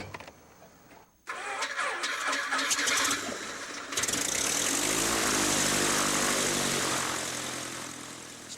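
A small aerobatic airplane at a private air park starts its engine with a cough, then the propeller and engine build into a steady loud drone that climbs in pitch and slowly fades as it takes off.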